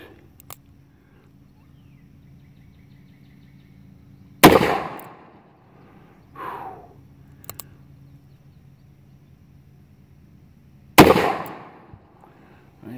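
Two sharp, loud gunshots from a Taurus 415 .41 Magnum revolver ring out outdoors several seconds apart, each with a decaying echo, with a faint impact sound from the target stand between them and a low background hum.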